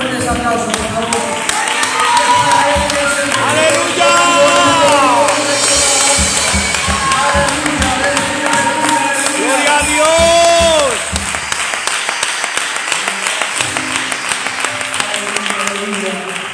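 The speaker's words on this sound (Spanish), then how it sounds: "Si es para Dios, más fuertes aplausos" A church congregation breaks into louder, more energetic applause with cheering, building to a full roar before easing into lighter clapping, while a voice speaks over it.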